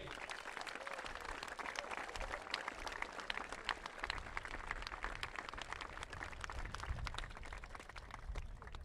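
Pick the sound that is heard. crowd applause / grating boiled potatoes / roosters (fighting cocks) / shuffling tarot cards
crowd applause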